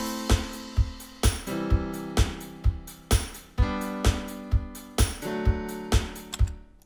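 An 8-bar chord loop built from Cubase chord pads, sustained synth chords struck on a regular beat with sharp percussive hits marking each pulse, playing alone with no voice.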